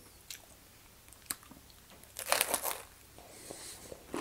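Someone bites into a crispy tortilla burger parcel, producing a burst of loud close crunching with crackly, crinkling chewing after a few faint clicks and taps.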